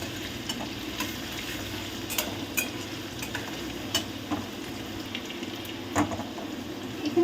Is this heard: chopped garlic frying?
yes